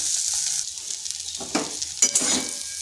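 Onions and bitter gourd sizzle in a hot pan, a constant frying hiss broken by two or three brisk stirring scrapes near the end; close-up, no voices.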